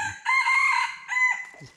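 Red junglefowl crowing in forest, one long drawn-out call followed by a shorter trailing phrase, fairly near and loud, with no one speaking.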